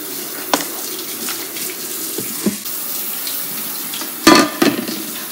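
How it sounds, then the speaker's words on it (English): Tap water runs steadily into a sink while hands are washed, a close, continuous splashing with a few louder splashes and clatters near the end. "First step, wash our hands."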